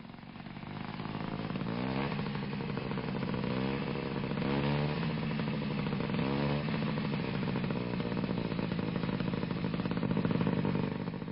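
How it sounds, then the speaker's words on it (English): An Italian scooter with a learner dual control runs on the highway, its small engine buzzing loud and continuously with rising and falling revs and a raspy, clattering tone throughout. "But this Italian scooter is fitted with a specially designed dual control to make learning to ride safer on the highway."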